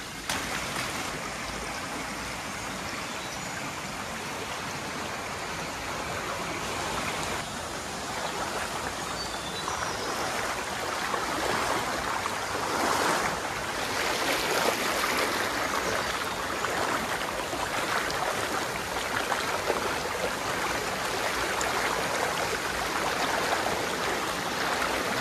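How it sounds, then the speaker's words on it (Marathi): A rain-swollen stream runs strongly after a night of rain, a steady broadband rush of flowing water that holds loud and continuous throughout with no talking. "भरपूर पाणी आलं आहे वाळीला, कारण रात्रभर पाऊस चालू आहे आणि पाण्याचा प्रवाह बघा."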